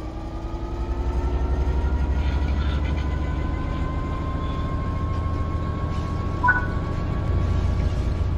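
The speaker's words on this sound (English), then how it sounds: "Apply some throttle to get the train moving." A train in Train Sim World 3 pulls away under throttle, its deep, steady engine rumble and rail noise holding constant and fairly loud throughout, with a brief higher squeal near the end.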